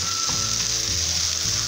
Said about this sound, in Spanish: Una vez que se ha frito nuestra cebolla con el ajo